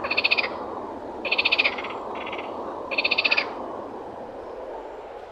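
Frogs croak in three loud, rapid rattling bursts, each about half a second long, over a steady background hum outdoors on a hot summer walk, with no voices.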